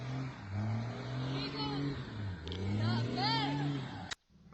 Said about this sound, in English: Sounds like the truck was spinning its tires